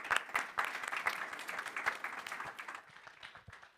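Audience at a panel session of a press congress applauds in a steady burst of clapping that fades toward the end, with no speech over it.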